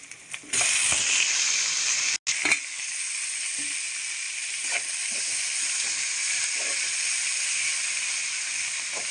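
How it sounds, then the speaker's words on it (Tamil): Tomatoes sizzle and hiss steadily in a hot pan for a sardine curry, along with chilli and curry leaves. A loud, continuous frying sound runs throughout, broken once by a brief clatter near the start. "பச்சை வாசனை போகிற வரைக்கும் நல்லா வதக்கிக்கோங்க"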